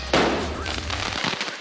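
A firework explodes with a sudden loud bang that trails into crackling and popping as the burst fades over about a second.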